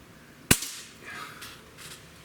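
A Barra 1866 Gen-2 Cowboy Series air pistol fires a single .177 pellet, one sharp close crack followed by a short fading tail and faint handling sounds, with no talk.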